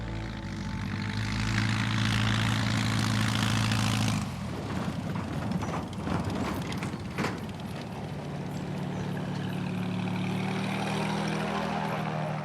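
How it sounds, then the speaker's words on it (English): A propeller airplane comes down onto a dirt landing strip in a forest on an island, its engine droning loudly and then shifting to a rougher, rumbling roar as it rolls along the ground. "The day's first touchdown is in Vinyl Haven, where there is only a dirt landing strip in the forest."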